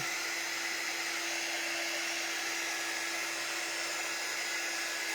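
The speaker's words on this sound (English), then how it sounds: "So I'm using this heat tool, and I did keep my ink mat inside." Heat tool blowing hot air over a screen print transfer, a constant close whirring blower hum with airy hiss and a steady tonal whine, unbroken and without talk.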